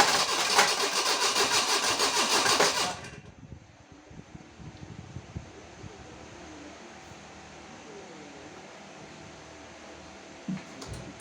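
A Junior R11 motor being assembled starts and runs, a loud, rapid buzzing drone for about three seconds, then cuts out, leaving quiet clicks and faint handling noises.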